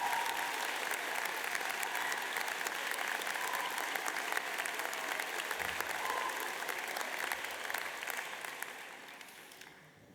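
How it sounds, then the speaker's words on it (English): Sustained applause from a large graduation ceremony audience at UAL Central Saint Martins, steady and full for about ten seconds before tapering off at the end. "give them a round of applause to thank them for everything that they've done"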